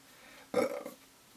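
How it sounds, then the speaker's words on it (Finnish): One short, sudden burp sounds close and moderately loud, rising abruptly and fading over about half a second in an otherwise quiet room. "röyhtäyttä."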